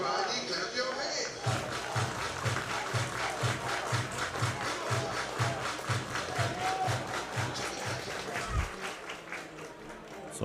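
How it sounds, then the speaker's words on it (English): A baseball crowd at a Swift Current Indians game in Okotoks claps hands in steady rhythmic unison, the even beat running for several seconds over a general crowd murmur. "Everybody clap your hands."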